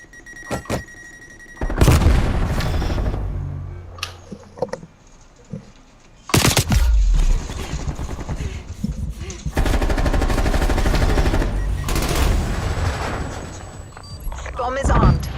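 Hostile artillery and gunfire in a first-person shooter game, heavy bursts and rattling automatic fire arriving in loud waves, under announcer lines and in-game voices.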